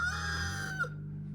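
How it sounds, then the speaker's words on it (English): Big leghorn rooster outdoors by a hen run, giving one loud, drawn-out, tonal call that breaks off abruptly near the end, alone without talk. "Oh, it's a big leghorn rooster."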